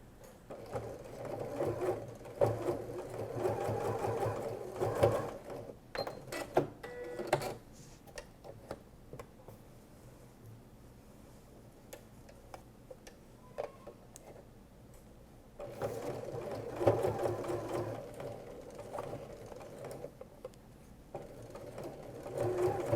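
A Janome sewing machine bastes straps onto a tote bag at a quarter-inch seam, running in two sustained bursts of rapid stitching with a quiet pause and faint clicks and handling noises between them.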